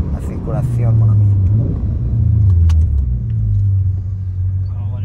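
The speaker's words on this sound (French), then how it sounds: "Oh ouais, il y a de la circulation." Car traffic at a red light, a steady low engine rumble from nearby vehicles that swells and holds through the clip, with people talking over it.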